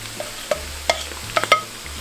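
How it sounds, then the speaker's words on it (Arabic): Liver being stirred and sautéed in a pan, with irregular scraping and clinking utensil strokes over a soft, close sizzle. "نبتدي نقلب تاني، نشوح الكبده برضه."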